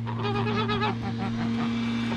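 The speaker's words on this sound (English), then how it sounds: "Come on, geese." Geese on a farm homestead in Portugal honk in a short, busy burst of overlapping calls over a steady low mechanical hum, then quieten while the hum carries on.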